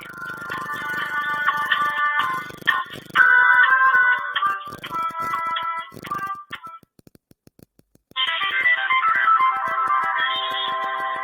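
An electronic phone ring plays in repeated bursts, pauses briefly into near silence, then starts ringing again, clear and close.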